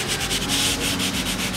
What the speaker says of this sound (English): Then give it a light sand.